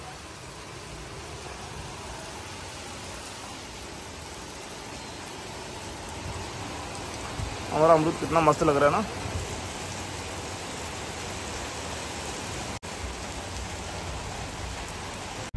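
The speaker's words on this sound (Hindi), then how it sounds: "बारिश तो बंद ही नहीं हो रही है" Heavy rain pours down steadily in a constant hiss, with a brief spoken remark partway through.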